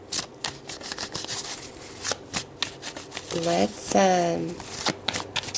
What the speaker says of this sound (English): pull some tarot cards to see what the story is here